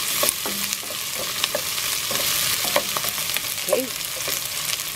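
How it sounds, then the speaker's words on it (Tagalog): Onion sautéing in a pan for pancit lomi, a soft steady sizzle with occasional stirring scrapes, close by, and a brief word spoken over it. "hintayin lang natin na medyo maluto ng konti itong sibuyas"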